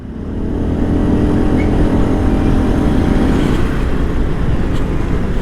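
Engine of an Aprilia SXR 125 scooter rising to a steady, loud drone as the throttle opens, holding a continuous near hum throughout with no talk.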